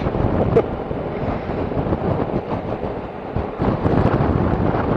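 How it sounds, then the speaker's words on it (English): Steady broadband wind buffeting across a microphone while riding a Suzuki V-Strom motorcycle outdoors, a continuous rough roar with brief gusty swells, loud and close with no talk. "that wind."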